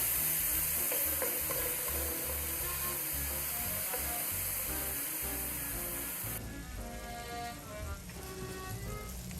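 Onion softening in a pan over very low heat for a shrimp and chorizo risotto, giving a steady close sizzle and crackle with faint stirring, continuous and even throughout.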